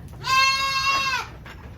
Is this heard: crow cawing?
no